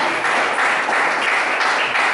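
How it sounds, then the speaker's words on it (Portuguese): A church congregation claps hard for God during a Portuguese-language worship service, a loud, dense, continuous burst of hand clapping from many people at close range. "Aplaude a Deus bem forte, glorifica, bate palmas para Jesus"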